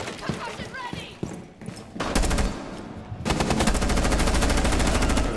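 Bursts of automatic gunfire from Rainbow Six Siege, a short rattle followed by long sustained rapid volleys, loud and close, with players talking over the shots.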